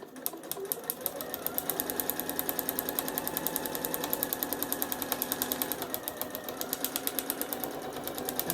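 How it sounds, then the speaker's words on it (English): A sewing machine runs continuously for several seconds while stitching a paper-pieced Christmas star quilt block, giving a close, steady rapid needle clatter with an even mechanical hum and no talking. "we're going to sew right off this side."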